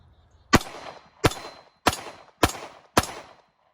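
Five sharp pistol shots from a Smith & Wesson M&P, evenly spaced about half a second to a second apart, each a loud close crack with a short decaying tail, no talk.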